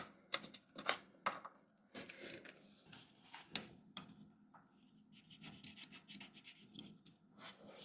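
A pencil rubs and scrapes along the edges of a wooden front door frame while marking a line, with several short rasping strokes early on, then softer intermittent scratching close by, with no talk.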